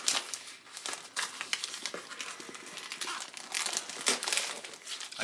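A plastic bag crinkles and rustles in quick, irregular bursts while a beard oil set is unboxed, close and fairly quiet, with no talking over it.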